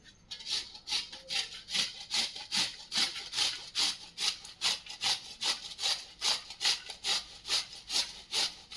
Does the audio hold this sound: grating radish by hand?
yes